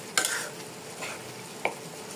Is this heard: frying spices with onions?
yes